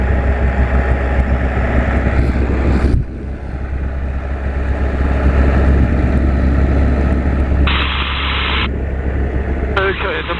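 Loud, steady roar of a Spitfire's piston engine in flight over Duxford, heavy wind rush over it, with a brief dip in power partway through.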